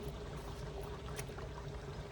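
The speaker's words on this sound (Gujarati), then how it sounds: "જુઓ કૂવામાં જાય પાણી" Water from a tank pours steadily into a well, a constant low rushing flow that stays even throughout with no voices.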